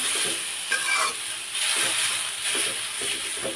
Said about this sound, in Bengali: রসুনের পেস্টটা এই টাইমে এখন আমি আর একটু ভাজি করে তারপর তেলটা দিয়ে দিব